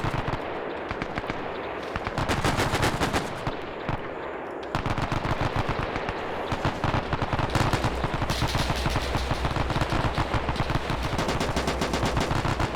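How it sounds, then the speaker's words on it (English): Video game .30 caliber Browning machine guns hammer out sustained rapid bursts, loud and close, with brief gaps between volleys before near-continuous fire. "I got the 30 cals firing back."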